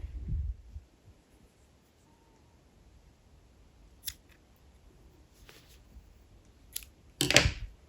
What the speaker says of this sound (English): fasten off and cut off this excess yarn